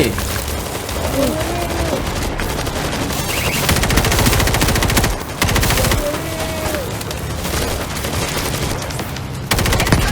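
Sustained automatic gunfire and bursts fill a World War Z zombie horde-mode battle, loud and relentless, with players' voices talking over the shooting.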